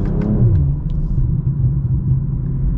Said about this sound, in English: I love the little pops you get when you upshift under throttle.